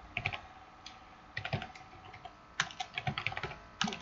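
Typing on a computer keyboard while writing a short program, close and crisp, with quick bursts of clicking keystrokes separated by brief pauses and no talk over them.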